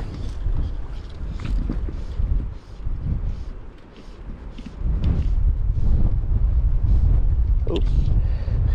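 Strong, gusty wind roars and buffets the microphone on a beach during fly fishing for flounder on the Outer Banks at Cape Hatteras, steady and loud throughout with surging gusts.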